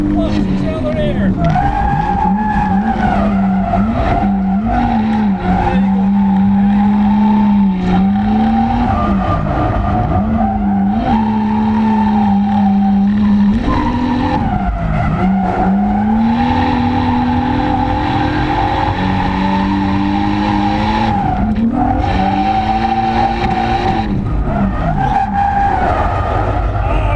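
A 450bhp Nissan R33 Skyline drifts with its engine revving hard and tires skidding and squealing continuously, the pitch rising and falling with repeated throttle blips, loud and close.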